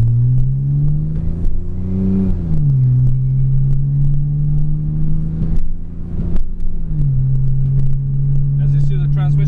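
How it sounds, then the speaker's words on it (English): A 2003 Mitsubishi Eclipse GTS V6 is driven from inside the car, its engine a steady, close hum that drops in pitch at each automatic transmission shift, with a couple of clear shift points. "As you see, the transmission shifts correctly."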